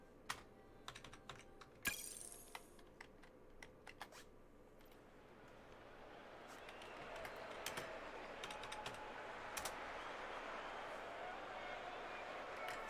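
Rapid clicking keystrokes on a computer keyboard during an esports tournament stream, quick irregular bursts of taps up close, later sinking under a rising wash of background noise.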